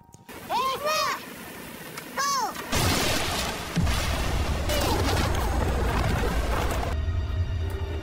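Gunfire and a large explosion in a war film, with a deep rumbling blast and sustained crashing roar after short tonal sweeps, loud and close, while a narrator talks over it.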